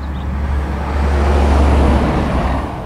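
A heavy quarry truck rumbles past on a Welsh road with a deep, steady low roar that swells in the middle and eases off, set against continuous road traffic noise.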